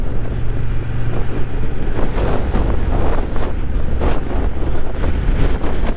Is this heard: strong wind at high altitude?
yes